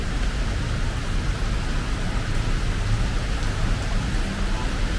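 Steady, dense rain pours onto a Saigon street, a loud, unbroken hiss with no pauses.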